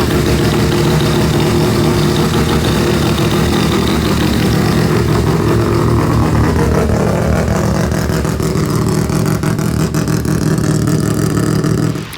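A loud four-rotor rotary engine idles close by with a choppy, pulsing low rumble, its rough uneven rhythm steady throughout with no talking.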